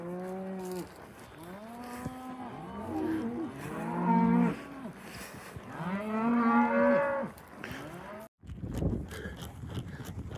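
Cattle being herded toward a culvert low and moo repeatedly, many overlapping loud calls close by, before a brief cut and some rustling.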